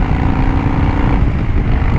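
A car's loud aftermarket exhaust roars up close, a dense, steady low drone that rises and shifts in tone partway through.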